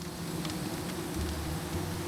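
Bees buzz in the video game Psychonauts 2, a faint steady hum running the whole time under game ambience, with no talking.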